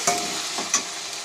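Potatoes being stirred in a frying pan after salt goes in, with a soft steady sizzle broken by two quick scraping strokes of the spoon, close and fairly quiet.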